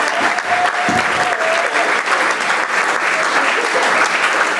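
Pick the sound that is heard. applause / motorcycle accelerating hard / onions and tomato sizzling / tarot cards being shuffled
applause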